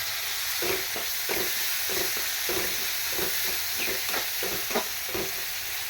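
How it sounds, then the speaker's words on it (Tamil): Tomato sautéing in a pan with salt and turmeric gives a steady sizzle, and a utensil stirs through it in repeated scraping strokes roughly every half second. "இதுவும் கொஞ்சம் வதங்கட்டும் நல்லா வதங்கட்டும்"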